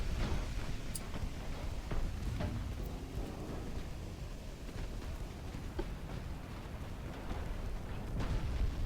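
Incoming naval shellfire in the Ultimate Admiral: Dreadnoughts warship game: a continuous deep rumble of distant heavy gunfire and shell impacts, with scattered muffled booms throughout and no voices.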